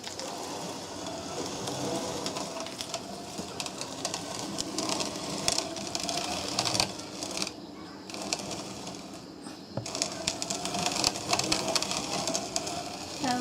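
A grinder turns roasted cocoa beans into homemade chocolate, producing a steady mechanical whirring hum with rhythmic crunching and clicking, close up and continuous for the whole stretch, with no speech.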